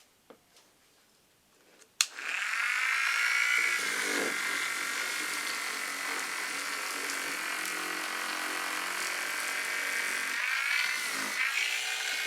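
A Parkside 3 in 1 triangle sander fitted with 80 grit sandpaper starts with a click and runs at a low setting, giving a steady, close buzzing whine that wavers slightly near the end.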